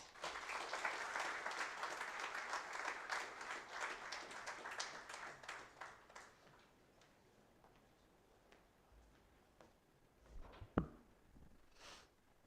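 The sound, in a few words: applause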